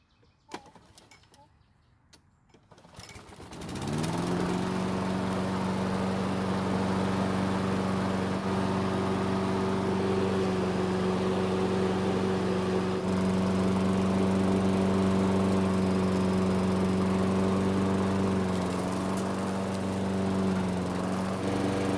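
A Craftsman riding lawn mower engine cranks briefly, then catches and settles into a steady, loud running drone that holds without change for the rest of the clip.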